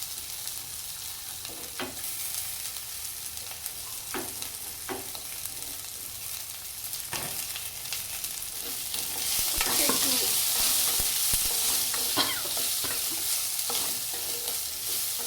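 Potatoes fry in a pan with chopped green chilli and ginger for a spinach and mung dal dish, a continuous sizzle broken by scraping stirring knocks that grow louder and busier midway.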